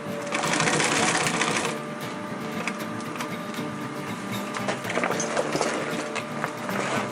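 A sewing machine runs steadily and loudly, stitching a large rollup backpack with a dense mechanical whir that stays up close and continuous, slightly louder at the start.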